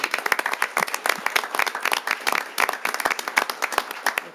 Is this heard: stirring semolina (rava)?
no